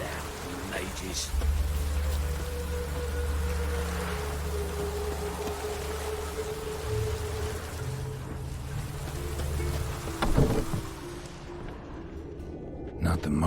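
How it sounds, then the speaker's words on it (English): Rain patters steadily in The Witcher 3, a soft continuous hiss over low ambient game hum, with a couple of brief thumps and some speech mixed in. "Rain again."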